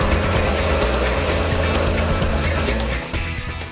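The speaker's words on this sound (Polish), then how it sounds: "Silnik jest oczywiście doładowany, ale ma 5 cylindrów, które wydają taki przyjemny, rasowy dźwięk" A Ford Focus ST's turbocharged five-cylinder engine, 225 hp, drones loud and steady up close, a rich multi-harmonic hum that eases slightly near the end.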